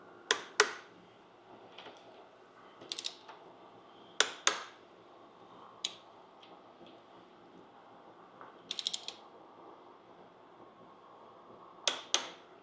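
Torque wrench clicking and ratcheting on oil pan bolts of a first-generation Cummins truck engine, sharp close metallic clicks in short bursts with pauses between, quiet background, no talk.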